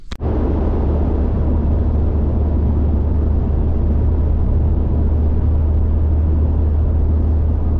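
A car cruising on a highway on the way to work gives a steady, loud engine and road rumble with continuous wind and tyre noise from inside the cabin, unbroken and without speech.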